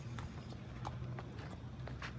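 Tb Salute, a horse on his way to the racetrack for a morning gallop, clip-clops at a steady walking pace, the hoofbeats faint against a low background hum.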